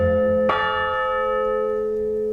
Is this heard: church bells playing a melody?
yes